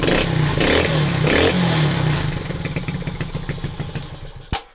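A smoking Delta moped with suspected piston ring trouble runs loud and close, then settles into a fast, uneven putter of firing pulses, ending with a sharp click.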